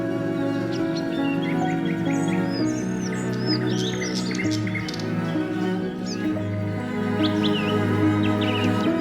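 Birds chirping in Hawaii, scattered high tweets and calls over a steady wash of music-like tonal background, moderately loud throughout.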